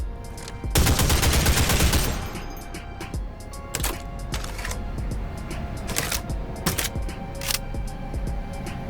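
Rapid bursts of gunfire from a range of guns in the video game Sulfur, including pump-action shotguns and a .50 cal P90, crack out loud and close in a sustained volley, followed by scattered single shots and short bursts.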